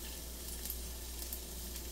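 Chopped garlic and onion sizzle in lard in a pan, a steady close crackling hiss with faint popping, and no talk.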